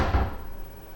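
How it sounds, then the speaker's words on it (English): A kitchen cabinet door slams shut with one close thud at the very start, then a short fading rumble. "how loud these cabinet doors are when you slam it"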